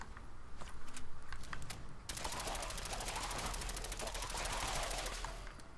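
Rapid exploding-shot gunfire in the video game Fallout 4, a fast dense stream of sharp cracking bursts that starts about two seconds in and continues steadily, preceded by scattered single shots.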